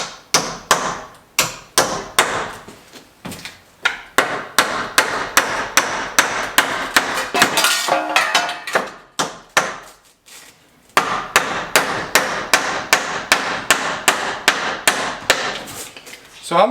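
Repeated hammer blows on wood while wiring a new garage bathroom, sharp close strikes in steady bursts with brief pauses, loud and clear with no talking.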